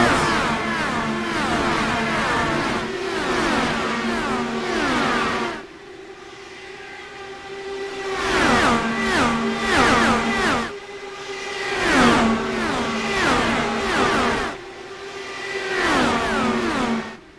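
IndyCar race cars in the iRacing game screaming past at Chicagoland after the green flag, loud overlapping high-pitched engine whines rising and falling in repeated pass-by waves with brief quieter gaps.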